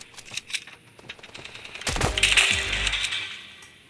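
Gunfire in the video game Stones, with scattered light shots early, then a loud heavy blast followed by a burst of rapid shots and a ringing tail.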